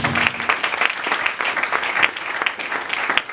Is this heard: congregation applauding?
yes